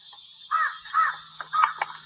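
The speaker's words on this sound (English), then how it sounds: "the birds are already making these sounds as they're giving something away" Birds call at the edge of a rural property in short, harsh, crow-like caws, three or four spaced bursts at moderate distance over a quiet background hum.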